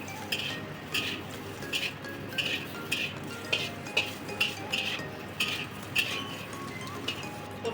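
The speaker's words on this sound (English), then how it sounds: "Let's fry our roasted pork" Roasted pork frying in oil in a pan while cooking devil's curry, with a steady sizzle under repeated clinks and scrapes of a utensil stirring against the pan at a fairly regular rhythm.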